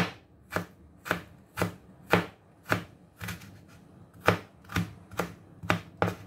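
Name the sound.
chopping ginger into strips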